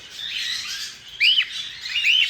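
A small bird chirps in short, high tweets, a few quick calls close by over a quiet background.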